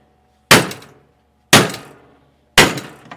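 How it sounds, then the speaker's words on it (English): Three evenly spaced, sharp metallic hammer blows strike a vintage Polaris TXL Indy snowmobile in a junkyard, each impact ringing briefly before fading, about one second apart, with no talking. "Swinging the hammer, boss."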